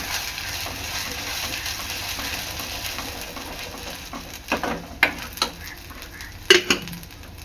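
Green masala paste sautés in hot oil in a pan for a tuna curry, giving a steady soft sizzle, with a few sharp spoon-on-pan scrapes and clinks near the end.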